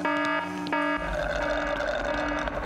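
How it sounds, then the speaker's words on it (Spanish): A cartoon alarm clock rings with steady, buzzing harmonic tones, looping continuously at moderate loudness with no talking. "¿Por qué aún se oye la alarma? ¡Viejo, es el despertador!"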